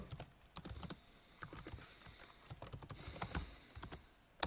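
Java code is typed on a computer keyboard: quick, uneven bursts of close key clicks with brief pauses between words, and no one speaking.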